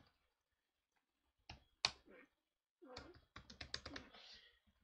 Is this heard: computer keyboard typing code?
yes